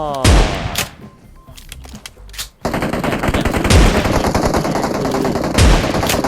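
Rapid game gunfire from shotguns in PUBG Mobile, loud sharp blasts recurring over a busy, dense background of further shots and clatter, with a brief quieter gap early on.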